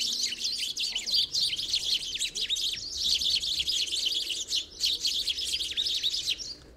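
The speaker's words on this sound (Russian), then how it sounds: "На кормушке полевые воробьи тоже без проблем прогоняли синиц" Tree sparrows and tits at a garden bird feeder chirp in a busy, overlapping stream of bright, rapid calls, close and fairly loud over a quiet outdoor background.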